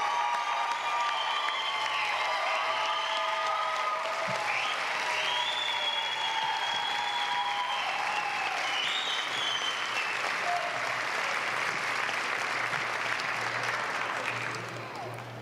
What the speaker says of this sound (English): Let's have a big round of applause for our respiratory care graduates.